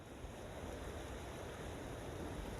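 Broadband rushing water fills the whole stretch, a steady loud wash like a cold snowmelt stream being waded across on the Pacific Crest Trail near Muir Pass, with no voices.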